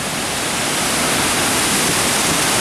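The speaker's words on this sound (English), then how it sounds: "if you ever get the chance to come here, come see this waterfall" The Panther Creek waterfall near Carson, Washington roars as a dense, loud, unbroken rush of falling water, steady throughout without any voices.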